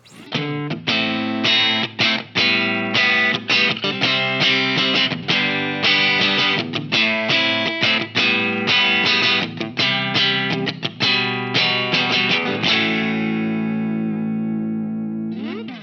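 A distorted electric guitar on the neck pickup, through a Line 6 POD GO, plays a busy run of strummed chords and riffs, warm and thick in tone, ending on a sustained ringing chord.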